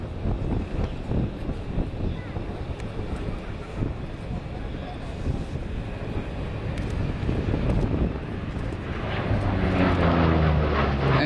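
A Lockheed P-38 Lightning twin-engine fighter flies at the Flying Legends 2011 airshow, its steady engine drone heavy with wind buffeting across the microphone and building louder toward the end as the plane draws nearer, while a voice talks throughout.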